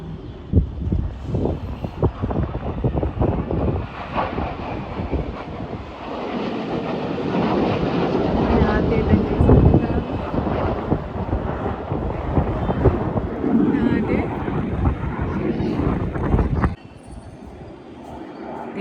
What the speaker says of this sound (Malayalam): വീണ്ടും പ്ലെയിൻ വരുന്നുണ്ട്.